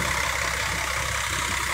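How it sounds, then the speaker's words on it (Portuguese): A brand-new Mercedes-Benz engine idles in a Guanabara intercity bus parked in Barbalha, a steady, even hum with constant broadband hiss and no variation in loudness, heard alone without talk. "Motor Mercedes zerado"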